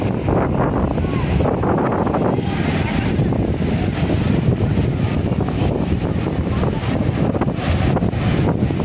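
Steady wind gusting at the seashore at Cox's Bazar, a continuous broadband rush with buffeting on the microphone throughout, loud and unbroken.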